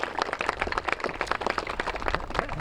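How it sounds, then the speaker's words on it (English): A crowd of CCA Lake Charles event attendees gives a steady round of clapping and applause for volunteers outdoors, dense and continuous, with no talking. "how about a nice round of applause for our CCA Lake Charles volunteers"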